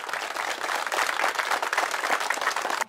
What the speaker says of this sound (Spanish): les pido un fuerte aplauso para el presidente municipal